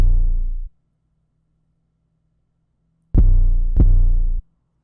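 Deep 808 bass notes programmed in FL Studio, with the lower note of the progression swapped for a Z 808: one long sustained boom, a pause with a faint low hum, then two more sliding booms in quick succession, loud and isolated.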